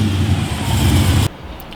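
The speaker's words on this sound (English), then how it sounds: "just to show off again the remote start function on the trucks. Press it twice and it should start" A Hellcat-powered RAM 1500 pickup idles with a deep, loud, steady rumble after a remote start, then the engine note cuts off abruptly near the end.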